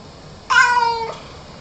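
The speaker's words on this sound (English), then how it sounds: "So that's the mean sounding meow." A single drawn-out cat meow, harsh and tonal, lasting about half a second, close and clear against a quiet background.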